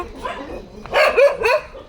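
A dog with a litter of puppies barks nearby, a short run of two or three sharp, yelping barks after a quieter, whimpering start.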